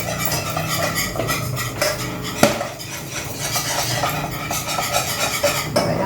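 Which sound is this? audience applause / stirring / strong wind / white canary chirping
stirring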